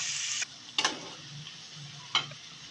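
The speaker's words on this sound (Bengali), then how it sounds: "গরম মশলার গুঁড়াটা দেওয়ার পর আরেকটু ভালোভাবে ভেজে নেব।" Garam masala powder fries in oil in a pan for an egg curry, a soft even sizzle punctuated by a few distinct scraping strokes of a spatula, heard close with no talk.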